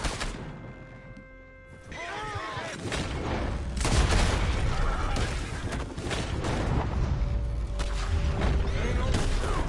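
Gunfire in a Red Dead Redemption 2 shootout, a dense, continuous clatter of shots and booms mixed with game effects and a horse whinny, loud and sustained, with voices shouting over the fight.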